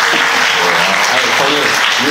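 A church congregation applauds during a Sunday service, a dense, loud wash of many hands clapping continuously and evenly, close and filling the room, with faint voices mixed in.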